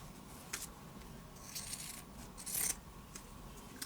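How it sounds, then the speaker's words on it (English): Pinking shears trimming a fabric seam: a few faint, close snips and rasping crunches scattered over a soft background hiss, with no talking. "Now take your pinking shears and trim off your seam."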